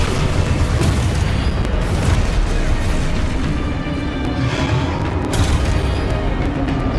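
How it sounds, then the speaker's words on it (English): Confringo spell blasts in the Hogwarts Legacy video game, a loud, dense run of booming explosions and crackling impacts rolling continuously without a break, with no speech heard. "Levioso! Confringo! Descendo!"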